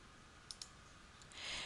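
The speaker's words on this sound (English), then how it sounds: "I simply click on the Select button" A computer mouse clicks on a Select button, two quick faint clicks over a low steady hiss followed by a soft rising noise, no speech.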